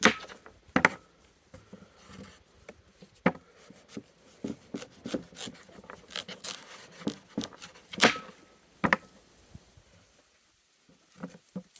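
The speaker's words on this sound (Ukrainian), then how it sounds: "Я беру такими ось дольками нарізаю." A knife cutting a pumpkin into wedges on a board, heard as a run of irregular close crunching cuts and scraping strokes that pause near the end.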